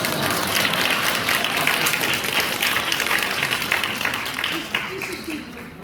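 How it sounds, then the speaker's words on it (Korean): Audience applause at a pastors' seminar lecture hall, a dense steady wash of clapping that holds for several seconds and thins slightly toward the end. "박수가 나와야 돼요."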